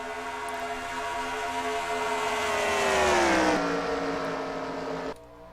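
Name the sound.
race car engines revving on a dyno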